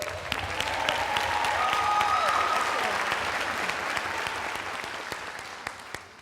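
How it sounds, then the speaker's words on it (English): A school staff convocation audience applauds, a dense, steady wash of many hands clapping that swells and then slowly fades, with a few louder individual claps near the end. "give him a round of applause for the accomplishments"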